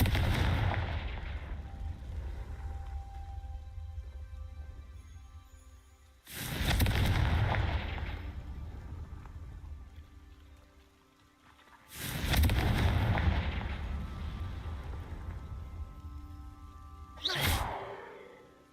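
Three separate Confringo blasting spells burst in a Harry Potter video game, each a loud, broad explosion, about six seconds apart, with a sharper, shorter pop at the end over a steady low game ambience.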